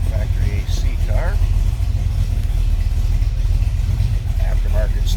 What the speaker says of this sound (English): Let it warm up a little bit. And I'll slip around back so you can hear it run.